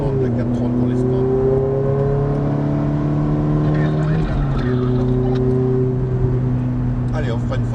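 A Ferrari race car drives on a circuit, its engine a loud, steady close drone with shifting harmonic pitch that drops briefly as the car brakes and changes gear, while someone speaks French over it.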